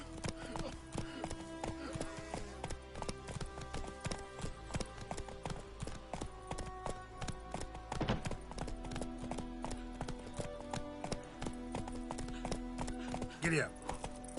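A horse clip-clops at a steady ridden pace in the video game The Witcher 3, with rapid, clear hoofbeats under game music and a brief voice near the end.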